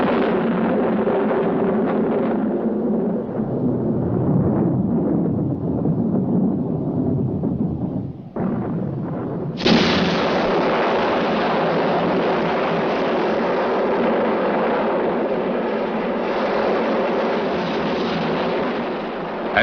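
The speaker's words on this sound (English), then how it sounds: "the shrill of the exchange is drowned out by the blasts of the miners' explosions" A continuous deep, rumbling roar with a brief drop and then a sudden surge, mining explosions blasting and echoing loudly with no speech.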